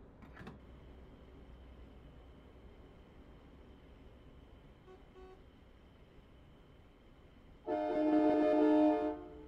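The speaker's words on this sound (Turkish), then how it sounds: "Ne yapmamı bekliyorsun, korna çalıyorsun?" A car horn sounds at a fuel station in Euro Truck Simulator, a short sharp toot early, then a sustained loud honk near the end over a quiet engine idle.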